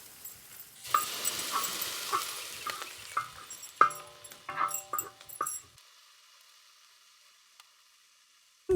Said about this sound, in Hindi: अब हम इसमें डाल रहे हैं अपनी हर्ब्स जो हमने छोटी छोटी काट ली थी।